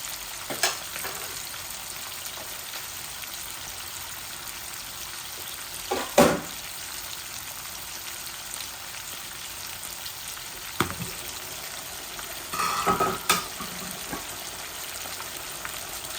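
Meat frying in oil in a pan, cooked one side at a time, a steady low sizzle running throughout with a few louder clatters and scrapes now and then, no talking.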